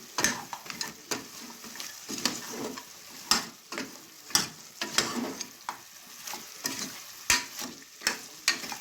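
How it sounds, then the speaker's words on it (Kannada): Coriander powder fries in a pan for mutton sambar, with a steady sizzle and frequent sharp scrapes and taps of a stirring spoon against the pan, close and fairly loud, with no voices. "ಹಾಕೊಂಡು ಚೆನ್ನಾಗಿ ಫ್ರೈ ಮಾಡಬೇಕು."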